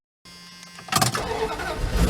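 An old campervan engine, after sitting all winter, cranks and catches, roaring up loudly and running rough after a brief mechanical whir at the start.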